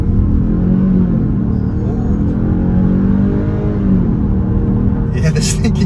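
A 2022 Kia Stinger GT-Line pulls away hard from a stop, its engine note rising loud and close in a continuous rumbling surge, with a sharp bright noise breaking in near the end.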